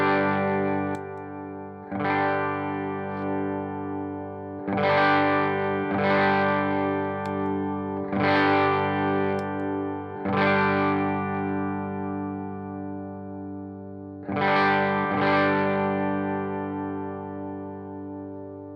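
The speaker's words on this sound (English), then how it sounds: "let me go ahead and play a little bit, and then I'll kick in the pedal and adjust the volume accordingly." An electric guitar plays through a Pro Co Rat distortion pedal with the distortion turned down, giving mildly driven strummed chords that ring out and decay, struck roughly every two to three seconds, loud and alone.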